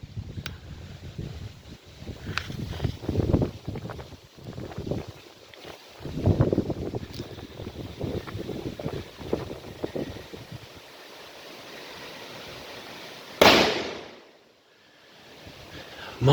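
A Killer Bulldog firecracker goes off outdoors at a firing range, one sharp loud bang that rings out and decays after a stretch of wind and handling noise.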